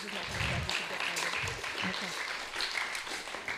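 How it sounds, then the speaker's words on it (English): Modest round of applause at a temple gathering for a guest speaker, Dr. Jayashree; scattered clapping sounds fairly distant and faint, with murmuring voices mixed in. "Let's give Dr. Jayashree a round of applause"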